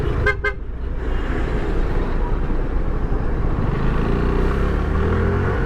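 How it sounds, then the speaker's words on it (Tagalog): Motorcycle weaving between trucks and cars on Mel Lopez Boulevard (R-10) at night, with a steady loud engine and road rumble throughout and two quick horn toots near the start. "kaya ibang motor dito na talaga lumulusot"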